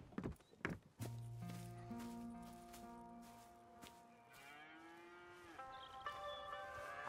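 Cattle moo in Red Dead Redemption 2, with a few low, drawn-out calls following some brief knocks and hoof clatter, fairly close and fading between calls.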